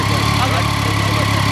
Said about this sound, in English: Making first rev.